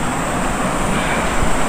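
River water rushes in a steady, loud wash at a campsite in Masinloc, Zambales, a constant roar that fills the whole moment without pause.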